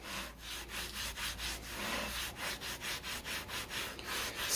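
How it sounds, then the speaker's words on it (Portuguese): A handmade bonsai pot wall being rubbed hard to thin it, giving a steady rhythmic scraping with repeated strokes, close and continuous with no talking. "Se eu esfregar com força aqui, eu consigo até afinar um pouco mais a parede do meu vaso."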